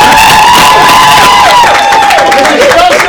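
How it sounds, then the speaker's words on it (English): Audience at the Stone Soup Poetry Slam cheers and applauds loudly and steadily, with whoops and shrill whistles rising over a dense wash of clapping and crowd noise. "one round of applause"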